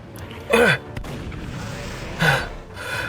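Gunfire aimed at a wyvern's underside in a video game: two heavy booming bursts, close and loud, separated by a low rumbling bed of game sound.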